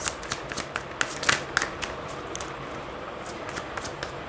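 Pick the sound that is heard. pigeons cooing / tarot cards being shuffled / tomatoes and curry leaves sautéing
tarot cards being shuffled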